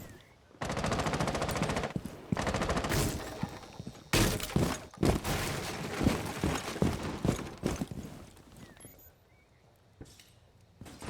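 Loud automatic gunfire from a video game, sustained bursts and rapid volleys rattling almost continuously, with a few sharp cracks and shattering hits, tapering into quieter scattered shots near the end.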